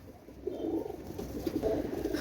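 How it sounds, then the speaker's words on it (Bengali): A pair of KTM Teddy pigeons coo softly in repeated low, rolling calls, faint and close against a quiet background hiss. "একজোড়া কেটিএম টেডি কবুতর, মাশাআল্লাহ"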